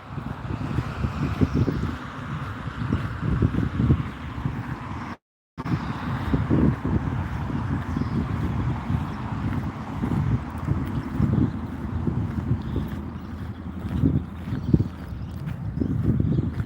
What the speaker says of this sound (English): It's a little bit breezy.